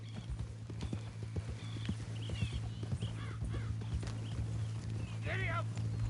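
Horse hooves clip-clop steadily at a riding pace in the Red Dead Redemption 2 video game, with a low hum and musical score beneath, brief bird calls, and a voice urging the horse on.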